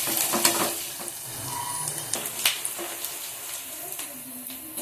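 Onions sauté in a pan with a gentle close sizzle throughout, punctuated by light scraping and stirring clinks every second or so; no voices are heard.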